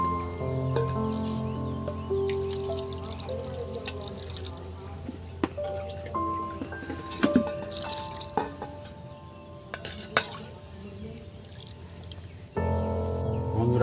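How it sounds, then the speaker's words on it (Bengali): Raw chicken pieces, cut for a potato chicken curry, are rinsed under running water in a kitchen, giving a continuous splashing pour with scattered drips and clatters until it stops near the end. "তো এবার এগুলো জল দিয়ে ভালো করে ধুয়ে নেব।"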